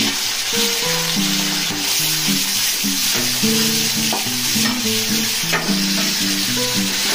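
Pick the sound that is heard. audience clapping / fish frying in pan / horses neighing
fish frying in pan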